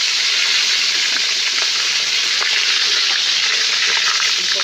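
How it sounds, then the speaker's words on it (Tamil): Live river crabs fry in hot oil in a village cooking setting, a loud, continuous bubbling sizzle that stays even and close throughout. "நண்டை வந்து பொரிச்சு எடுக்க போகிறோம்"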